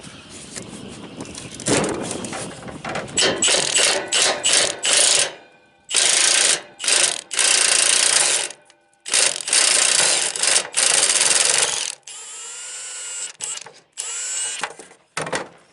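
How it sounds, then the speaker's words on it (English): A cordless battery impact wrench works on the exhaust bolts of a 1997 big truck, firing in repeated loud bursts of hammering rattles separated by short pauses, close up with no talk. "I'm going to try to do it with the battery wrench, and if I can't, I'll have to get the air wrench"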